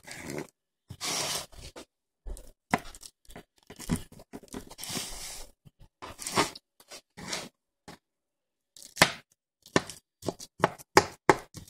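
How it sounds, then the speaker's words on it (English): Knife cutting banana slices into smaller pieces on a board, a series of crisp, irregular chopping taps in short bursts with brief pauses, close and clear, no talking. "with the slices, you're going to cut it into smaller pieces"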